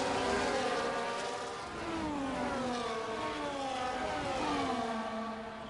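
Race car engine in a sim racing game at the Hungary circuit, revving and accelerating after a twitch, with rising and falling pitch sweeps as gears change, loud and continuous throughout.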